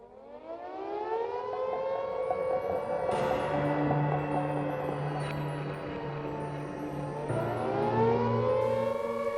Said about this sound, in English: Chamberlain's announcement of the outbreak of war in 1939 had barely finished when the siren sounded for the first time.